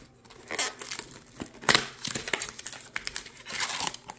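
Foil packs of 2013 Panini Select baseball cards are torn open and crinkled by hand, a close series of sharp crackling rips and rustles in uneven bursts with no talk.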